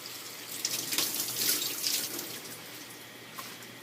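Greens are rinsed under a running kitchen tap, a steady close splashing stream that swells and then eases slightly as the water plays over the leaves, with no voices.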